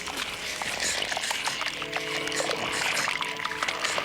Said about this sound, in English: The green gunge can be poured through the funnel out the mouth